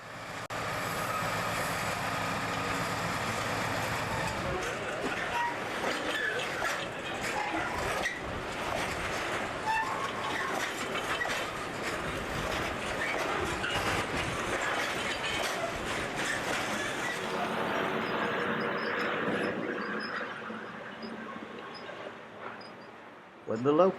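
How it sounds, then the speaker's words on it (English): A freight train rumbles past on rails by a steelworks tippler plant with steady clattering and squealing, moderately loud, while a voice narrates over it before it fades. "The train passes British Steel's tippler plant on its way towards the stop blocks"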